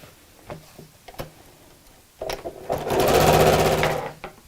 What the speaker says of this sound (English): we're just going to sew across the top of the main part of the bag